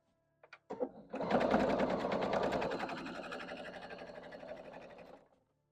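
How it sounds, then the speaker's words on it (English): A sewing machine stitching quilt pieces together for a basket wall hanging, with a few light clicks before it whirs into a steady, close, rapid needle rhythm that runs for about four seconds and then stops. "I'm going to sew these two pieces together like so."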